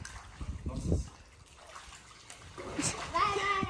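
A child dives headfirst into a pool, making a short splash and then sloshing, dribbling water. Children and adults talk and shout over it at close range.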